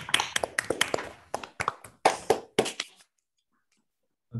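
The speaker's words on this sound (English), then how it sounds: "A little bit of applause would be nice in the virtual space." Scattered applause comes from an unmuted audience in a virtual scientific lecture: a few seconds of uneven claps and taps from several people, close and slightly choppy, stopping abruptly into silence.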